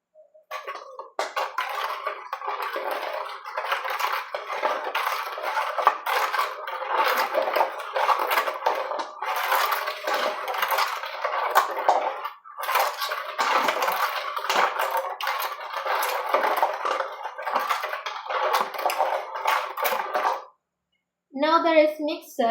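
Pineapple rice chicha, a Panamanian drink, being blended in a kitchen mixer, a steady dense whirring churn running for about twenty seconds, then a brief pause and a short final burst.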